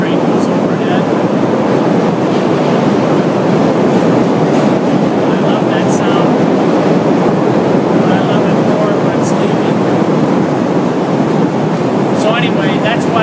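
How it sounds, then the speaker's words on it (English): A Chicago L elevated train passes overhead in the city, a loud continuous rumble and roar with faint clickety-clack and squeals that fill the whole stretch. "I have to pause for a second as the L train goes overhead."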